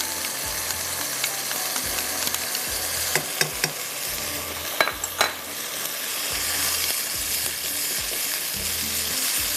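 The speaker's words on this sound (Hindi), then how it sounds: "आपने इस तरह से इसमें चम्मच चलाना है।" A spoon stirs egg and chickpea biryani masala frying in a pan, with a steady sizzle under repeated scraping strokes and a few sharp clinks of metal against the pan; no talking.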